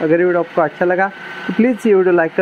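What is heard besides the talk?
No distinct noise like a dog, phone or traffic.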